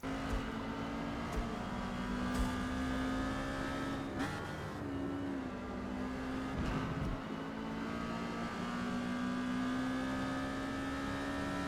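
A race car engine idling and gently revving in the pits at Laguna Seca in Forza Motorsport, a steady close mechanical drone with brief blips, heard alone throughout.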